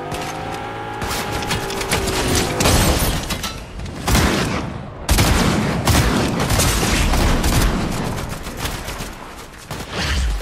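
Rapid gunfire in a video game, loud and nearly continuous bursts with booming impacts throughout, no talking heard.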